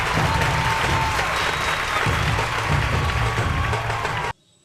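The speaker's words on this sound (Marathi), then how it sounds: "याच टाळ्या अपेक्षित होत्या" Loud sustained applause from a big audience, dense clapping with some cheering, cutting off abruptly at the end.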